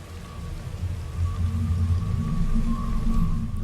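Steady rainfall drenches an island in the video game Singularity, a dense continuous hiss with a low rumbling undertone and a faint sustained tone above it, growing slightly louder throughout.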